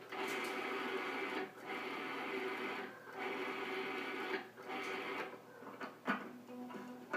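Food processor pulsing kale pesto with grated Romano cheese, a series of short whirring bursts separated by brief pauses, moderately faint and heard without talking.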